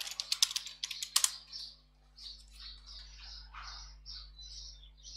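Keys clatter in a quick burst of taps as a password is typed on a computer keyboard to log in to a Windows Server 2019 domain controller, then birds chirp and tweet in the background for the rest of the clip.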